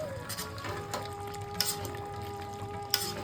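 A spoonful of ghee goes into simmering vegetarian-style mutton with roasted spices, giving a steady, moderate sizzle with a couple of sharp clicks from utensils, and no talking.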